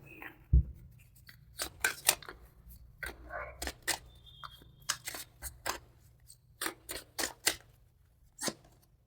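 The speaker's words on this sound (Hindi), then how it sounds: "थोड़े से और कार्ड्स निकालते हैं।" More tarot cards drawn from a deck, heard as a close series of crisp clicks and snapping card flicks in an uneven rhythm, without any talking.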